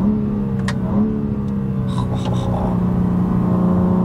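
A new BMW M2's engine rumbles steadily and low for the whole stretch, with a couple of faint clicks and taps over the constant drone.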